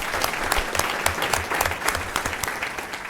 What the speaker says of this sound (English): let's give our retirees a round of applause